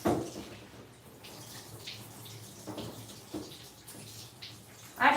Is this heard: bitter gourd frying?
no